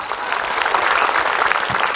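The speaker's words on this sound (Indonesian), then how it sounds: "Boleh tepuk tangan ibu-ibu?" An audience of women claps together at an Islamic religious gathering, a dense, steady burst of applause filling the room for a short stretch with no voices standing out.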